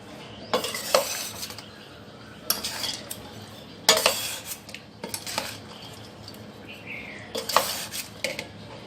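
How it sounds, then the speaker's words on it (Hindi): A spoon stirs green chillies into yogurt in a dish, with intermittent scraping and clinking bursts against the bowl separated by quieter pauses, close and fairly faint. "चलिए दही में डालने के बाद एक बार फिर इसको अच्छे से मिला लेंगे।"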